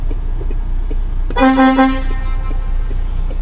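A car horn sounds at the closed gate of a factory in Daejeon: a single sustained honk, moderately loud and near, lasting under a second over low ambient rumble.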